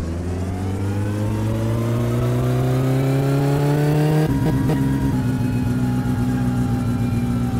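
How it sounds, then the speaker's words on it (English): Satsuma engine in My Summer Car with a 150 hp stock carburetor tune, revving loud and close as it pulls in second gear, pitch climbing steadily, then a sharp gear change drops the revs before it climbs again. "So I'll be doing a second gear pull."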